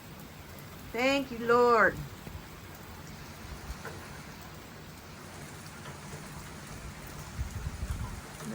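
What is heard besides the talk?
rain falling at night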